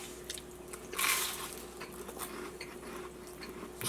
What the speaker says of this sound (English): It's got that good crunch.